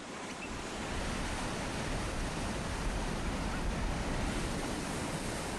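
Loud, continuous roar of surf breaking on rocks, with wind noise buffeting the microphone; no voices, just steady crashing water.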